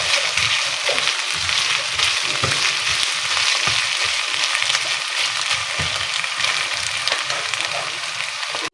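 Minced meat (keema) frying in a pan with garlic and ginger, a loud, steady, crackling sizzle running throughout with occasional stirring scrapes, no talking.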